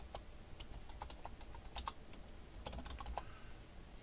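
Keys click quietly on a computer keyboard in short irregular bursts of typing, faint and close, with no voices.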